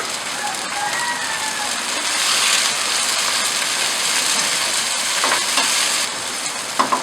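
Tomatoes and onions fry and sizzle in a pan while being cooked down into a masala for bhindi. The frying makes a steady, close hiss, with occasional stirring scrapes and small pops near the end.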